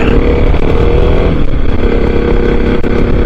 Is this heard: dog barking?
no